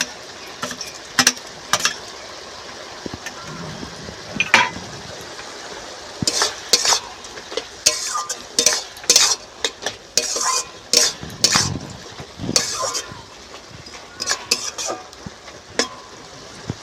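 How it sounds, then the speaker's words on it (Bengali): Soaked small fish added to a frying pan of tomatoes and stirred, with repeated loud metal scrapes and clinks of a spatula against the pan over a steady sizzle. "এবার আমি ভিজে রাখা মাছগুলো দিয়ে দেবো"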